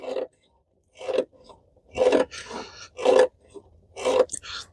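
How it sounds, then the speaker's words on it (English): The return spring of a John Deere 445 garden tractor mechanism gives several creaking, scraping squeaks in uneven bursts, loud and close, with pauses between strokes. "Most of that noise is probably the spring that returns it."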